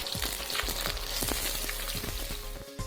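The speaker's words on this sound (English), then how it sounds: "Once the mustard seeds start to splatter" Mustard seeds fry and pop in hot oil for a cassava fish curry, a steady close sizzle broken by frequent sharp crackles and spattering bursts.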